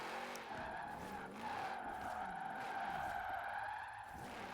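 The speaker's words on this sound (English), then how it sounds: "I do like the noise of the stock engine" A stock sports car engine in Forza Horizon 4, a Shelby 1000, revs and whines with tires squealing, the pitch rising and falling steadily as the car drives at speed.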